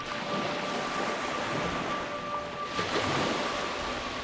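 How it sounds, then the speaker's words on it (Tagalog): Sea waves wash steadily around a boat crossing open water toward an island, a continuous broadband rush with wind noise and no voices. "tahimik lang naman noon na binaybay ng 3 ang dagat papunta sa isla"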